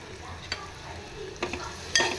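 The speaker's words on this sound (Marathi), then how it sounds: "कांदा मस्त नरम होईपर्यंत आपण हा फ्राय करून घ्यायचा आहे" Onion fries in a pan with a soft, steady sizzle, and a few brief scrapes and clatters of a spoon stirring it, fairly quiet and close, no voices.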